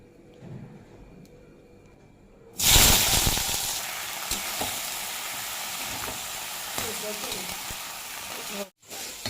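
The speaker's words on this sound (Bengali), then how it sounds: "এই যে চিচিঙে ভাজা বসিয়ে দিয়েছি" Snake gourd frying in a pan: quiet room noise, then a loud sudden sizzle bursts in and holds as a steady close hiss with faint crackles, briefly cut before the end.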